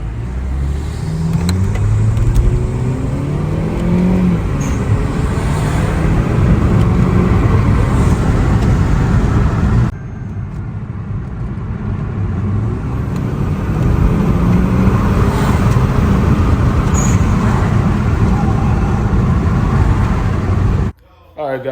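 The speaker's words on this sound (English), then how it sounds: "finally got my cold air intake in" Hyundai Sonata 2.0T with an aftermarket cold air intake driving, a loud, steady engine drone and road roar heard from inside the car, with a short break partway through.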